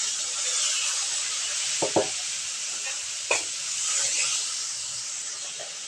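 Spice paste being stirred in a frying pan for a Bengali fish-head and greens dish, with a steady sizzling hiss and a few short scraping strokes of the spoon, close and without speech.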